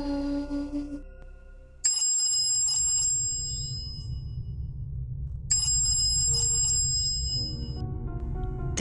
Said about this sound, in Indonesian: Tiba-tiba suara telepon berdering.